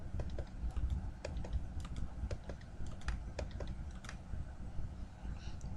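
Computer keyboard keys clatter in steady, close, moderately quiet typing, with irregular sharp clicks spread across a few seconds and no talking.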